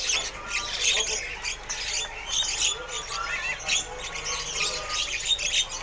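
Many small mantenan birds chirp and squawk at once in a busy, continuous chatter, close and fairly loud, at the Pramuka bird market.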